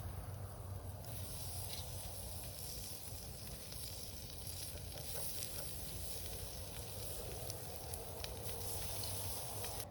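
Pork chops sear over an outdoor campfire, a quiet steady hiss and crackle of sizzling meat and burning wood heard up close without talk.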